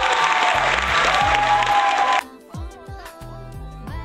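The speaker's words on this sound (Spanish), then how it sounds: "Aplausos para el papá." Applause for a father during a live stream: a dense burst of clapping that stops abruptly about halfway through, followed by quieter room sound with a few faint tones.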